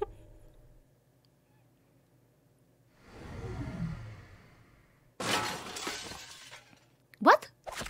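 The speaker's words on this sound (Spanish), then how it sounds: "Nadie ha escuchado el cristal romperse." Glass shatters in the video game LEGO Star Wars: The Skywalker Saga: a sudden loud, bright crash that rings out for a couple of seconds, with a sharp clink near the end, amid game sounds and a voice.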